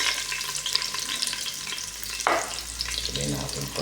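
Onion sautéing in a pan for bitter gourd with shrimp, a steady broad sizzle throughout with a brief louder stir or clatter midway, close and continuous with no talk.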